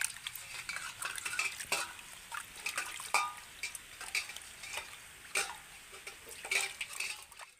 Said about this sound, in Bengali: এবার আমি জল দিয়ে ভালো করে মাছটাকে ধুয়ে নেব।